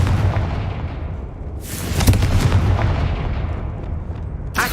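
The Confringo fire spell explodes in the Hogwarts Legacy video game, a heavy booming burst that swells out of dense, rumbling game noise and is followed by a sharp crack at the end.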